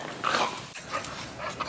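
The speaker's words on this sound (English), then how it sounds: "Now we got the dog fights over." Dogs scuffling and fighting, with short yips, whimpers and growling noises close by, a brief burst of agitated canine sounds with no talking.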